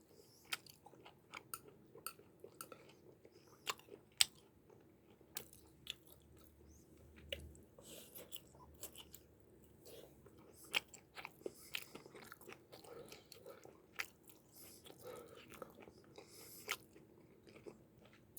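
Quiet, close chewing of Bibigo dumplings dipped in soy sauce, with soft wet bites and small crunchy clicks recurring irregularly over near silence.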